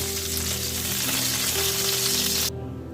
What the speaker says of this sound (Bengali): দেখুন পটলগুলো লাল লাল করে ভাজি করে নিয়েছি এখন তুলে নিব